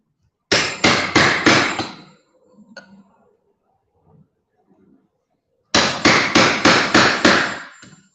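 A hammer driving a chisel into a wooden door: two bursts of about five sharp, evenly spaced strikes each, close and loud, with faint handling noises in the quiet gap between them.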